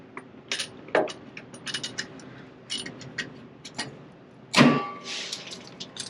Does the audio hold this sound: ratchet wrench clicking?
yes